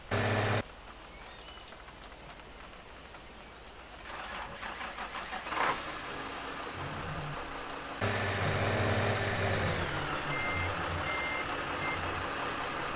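A water truck reversing in the Farming Simulator 15 video game gives a steady, repeated backup beep over a continuous engine drone, getting louder and clearer in the later seconds.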